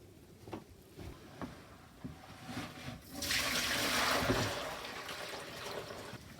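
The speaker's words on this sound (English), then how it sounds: "I'm now just going to tip this into the sink." Dirty water is tipped from a container into a sink after cleaning a wall hanging, a steady splashing pour swelling midway and then easing into a lighter trickle, close by with no talk.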